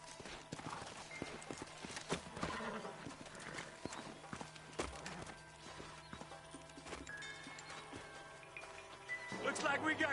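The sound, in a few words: horses walking and neighing in the Red Dead video game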